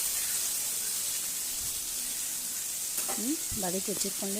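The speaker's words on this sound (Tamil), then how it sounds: "இப்போ நல்லா அந்த வெங்காயம் நமக்கு நல்லா ஃப்ரை ஆகணும்" Onions frying with okra in a pan give a steady broadband sizzle throughout, with a brief voice near the end over the hiss.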